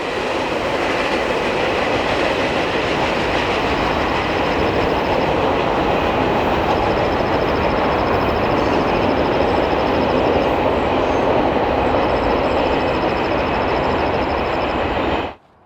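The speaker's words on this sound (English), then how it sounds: "The train slowly emerges from behind the vegetation as the engineer gets his train underway." Freight train rolling steadily past on Union Pacific's Portland Subdivision, hauling new commuter cars, a loud continuous rumble of wheels and rail noise with faint high squealing, holding close throughout before cutting off abruptly.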